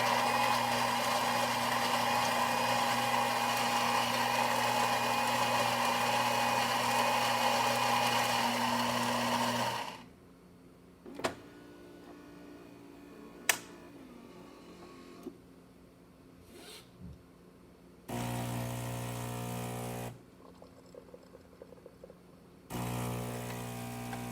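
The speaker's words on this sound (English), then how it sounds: "And let's go ahead and pour a shot." Gaggia Anima espresso machine pulling a shot: a loud buzzing pump hum for about ten seconds, then quieter dripping with a few sharp clicks and short bursts of machine noise.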